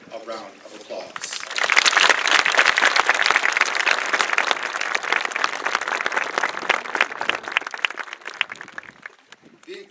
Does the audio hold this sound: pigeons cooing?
no